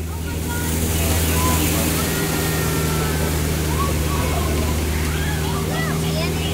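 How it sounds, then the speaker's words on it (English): Schleicher Falls, a steady continuous roar of falling water mixed with a low engine hum from a boat on a river, voices faintly in the background. "Ahead of us, the beautiful Schleicher Falls"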